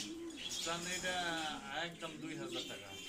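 High-quality pigeons in a breeder's loft in Bangladesh coo and chirp almost continuously over a steady background, with talk mixed in throughout.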